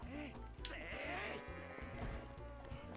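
A goat in Zelda: Twilight Princess bleats repeatedly in short wavering cries over a busy game soundtrack, with a player's voice briefly cutting in.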